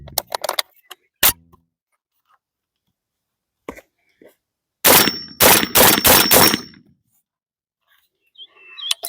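Shells are loaded into a Tokarev TAR 12 shotgun with 2 3/4 inch, 1 1/8 ounce 8-shot birdshot target loads, heard as scattered metallic clicks and clacks with quiet gaps and a cluster of sharp rattles midway.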